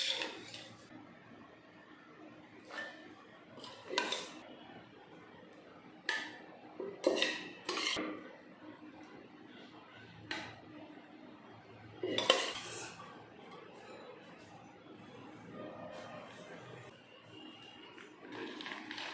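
Cooked chana dal tipped into a steel mixer jar in a home kitchen, heard as scattered clinks and metallic knocks of jar and utensils, several sharp clatters spaced irregularly with no talking.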